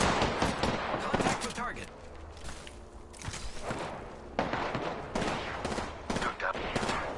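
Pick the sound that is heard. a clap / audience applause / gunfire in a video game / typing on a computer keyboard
gunfire in a video game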